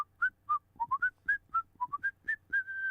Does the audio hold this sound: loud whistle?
yes